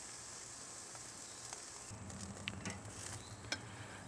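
Garlic shrimp sizzling on a Grill Dome kamado grill, a faint hiss that swells into louder crackling partway through, with a few sharp pops and ticks.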